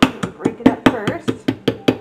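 Chunks of rosin being broken up by hand before grinding into powder for sealing wax, giving a run of about ten sharp, evenly spaced crunching knocks, close and fairly loud, with no talking.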